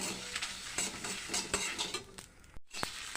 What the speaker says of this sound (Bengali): এই লঙ্কার সাথে সবগুলোকে কয়েক সেকেন্ডের জন্য ভাজা ভাজা করে নিচ্ছি।